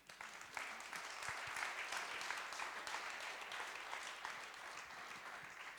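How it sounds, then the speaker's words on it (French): An audience at a talk on water saving and rewarding sobriety applauds the speakers, a sustained, fairly quiet patter of many hands clapping at an even density throughout. "on peut tous les applaudir"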